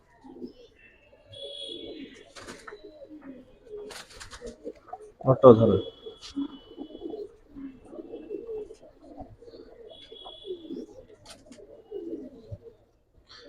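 Silver beji pigeons coo in low, soft bursts beneath people talking nearby at a pigeon seller's stall, with one loud close thump partway through and scattered faint chirps.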